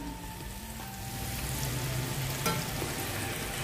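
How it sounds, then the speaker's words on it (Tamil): Potatoes cut and dropped into hot oil for a crispy potato fry, giving a steady close sizzle and crackle with a few sharper pops, continuous throughout with no talking. "நம்ம உருளைக்கிழங்கை கட் பண்ணி எண்ணெயில் போட்டு பொரிச்சு எடுத்தோம்னா"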